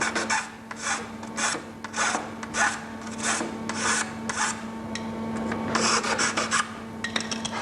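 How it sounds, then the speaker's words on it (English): A new half-round file rasps across wood in rhythmic back-and-forth strokes, close and distinct, about a dozen strokes with brief pauses between them, while a steady low hum runs underneath. "can you let me have that nice new half-round file, please, that you're hiding in your toolbox?"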